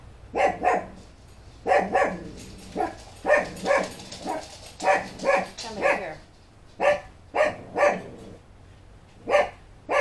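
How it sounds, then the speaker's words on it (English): A dog barks repeatedly nearby in quick doubled bursts, with short pauses between; a person speaks briefly at one point. "Who are you barking at?"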